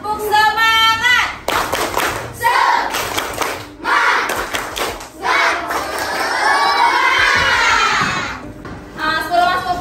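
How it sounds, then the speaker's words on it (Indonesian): Schoolchildren in an Indonesian primary classroom performing the tepuk semangat clapping chant, loud group shouting and rhythmic hand claps in bursts, with a teacher's voice leading between sections. "Tepuk semangat."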